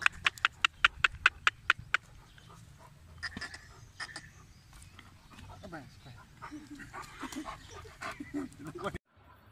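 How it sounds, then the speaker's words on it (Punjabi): A dog lets out a quick burst of sharp, evenly spaced barks, then breaks into whimpers and yips, with people talking nearby. "ਡਾਕਟਰ ਮੁਹੰਮਦ ਅਲੀ ਭਾਈ ਦਾ ਕੁੱਤਾ ਰੌਕ ਸਟਾਰ ਰੌਕੀ"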